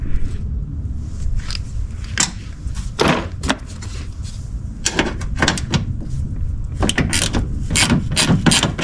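Ratchet clicking in bursts while unbolting the washer fluid reservoir on a 2008–2013 Toyota Corolla, with sharp repeated metallic clicks close by and short pauses between strokes.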